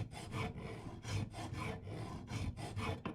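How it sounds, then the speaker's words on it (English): Hand filing along the edges of steel pieces for a metal jewellery box: about half a dozen quiet, rhythmic rasping strokes close by, with no talk. "I can go ahead and finish off filing the edges"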